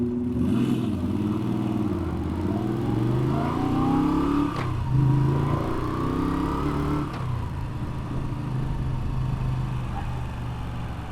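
Moto Guzzi V7 850 motorcycle on a ride, with a steady loud engine drone that rises and falls in pitch as it shifts and revs, continuous throughout and with no talk.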